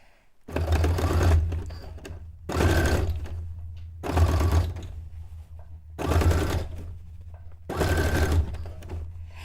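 Sewing machine stitching fabric for a cone-shaped cape or dress, heard as five loud, close bursts of rapid mechanical whirring, each a second or two long, separated by short near-silent pauses.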